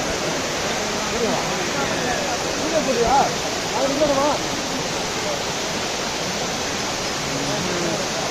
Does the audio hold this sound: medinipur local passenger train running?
no